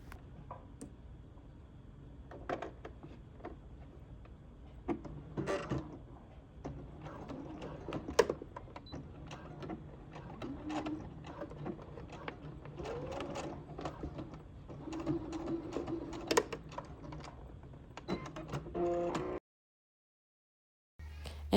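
A sewing machine stitches in the ditch along a dress bodice, with irregular bursts of rapid mechanical whirring and ticking, fairly quiet, stopping briefly before the end.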